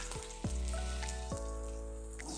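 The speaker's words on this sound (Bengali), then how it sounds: "তেলটা গরম হলে এখানে যে কেটে রাখা উচ্ছেটা রয়েছে সেটাও আমি ভেজে নেব" Cut bitter gourd fries in hot mustard oil with a loud, close, continuous crackling sizzle, punctuated by a few sharp clatters of a utensil against the pan.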